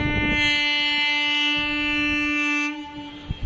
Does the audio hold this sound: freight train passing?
yes